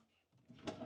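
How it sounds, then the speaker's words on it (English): A pull-out step drawer in a 2025 Riverstone Legacy 421FK RV slides open, a short soft rumble that ends in a brighter knock near the end, close and fairly quiet. "There's also a pull-out drawer there for the step, which I guess I could show you"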